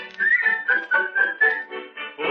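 A single person whistles a bright, wavering melody in a 1937 radio broadcast, phrased in short repeated bursts with brief pauses between them, clear and close with no talking.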